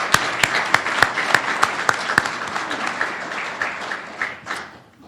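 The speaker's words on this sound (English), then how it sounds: "Let's give them all a round of applause." Conference attendees at the CATEE 2015 opening applaud the event sponsors, with a few sharp, loud claps from nearby hands standing out over the broader crowd applause, which fades out at the end.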